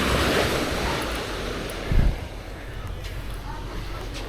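Ocean waves wash onto Canasvieiras beach with a steady surf rush and wind noise, one louder splash standing out midway; a voice speaks faintly in the background.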